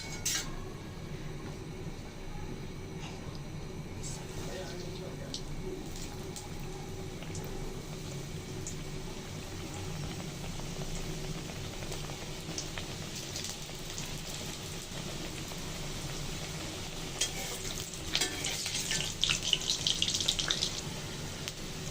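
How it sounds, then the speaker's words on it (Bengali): Pitha dough frying in hot oil in a wok for rosh pakon pitha, a steady close crackling sizzle that holds throughout and swells louder with sharper spitting near the end. "কড়াইয়ে তেলটা গরম করে নিয়েছি। এখন পিঠা ছেড়ে দিব।"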